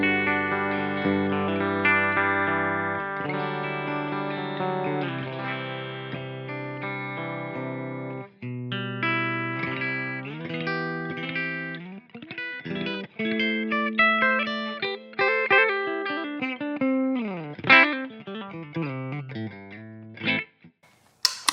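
Clean electric guitar through a Line 6 Helix Archetype Clean amp model, played on the bridge pickup of a Godin Summit Classic Limited with Lawler El Rayo pickups: sustained chords, then busier picked phrases and a slide near the end, moderately loud and alone.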